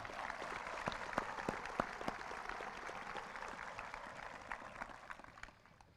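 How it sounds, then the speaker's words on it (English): A commencement crowd applauds graduating seniors of the Class of 2022: steady, dense clapping from a large audience that holds evenly, then thins and fades toward the end. "Let's give all these seniors a round of applause."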